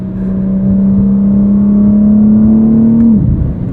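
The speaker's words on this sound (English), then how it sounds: "BMW did a fantastic job tuning this titanium exhaust." A deep, steady engine drone from a 2023 BMW M4 CSL's S58 engine with titanium exhaust, holding one pitch for about three seconds, then dropping off abruptly as the revs fall.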